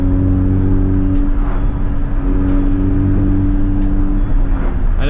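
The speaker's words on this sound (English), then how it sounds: "The intake sounds in this car are really nice." A modified Honda Civic Type R FL5 sports car engine hums in a steady, deep drone with a throaty intake note from an upgraded intake, holding an even pitch as it cruises, with no talking.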